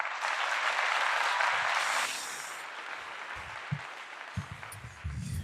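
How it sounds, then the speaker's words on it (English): An audience applauds in a dense, hissing wash of clapping that fades after a couple of seconds into quieter background, with faint low thumps near the end. "Round of applause for the people."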